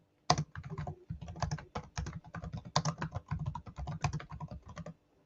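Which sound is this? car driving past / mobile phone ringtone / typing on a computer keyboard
typing on a computer keyboard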